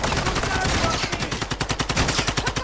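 Rapid automatic gunfire in the Warzone 2 video game, a fast rhythmic burst of shots that ramps up over a couple of seconds, close and fairly loud with no talk over it.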